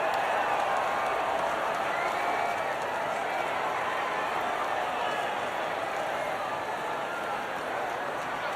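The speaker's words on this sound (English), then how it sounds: "the reaction from the crowd must be incredibly uplifting for them" A large grandstand crowd cheers at the podium in the F1 24 video game after the Azerbaijan race, a dense, continuous wash of applause and shouting that stays loud throughout.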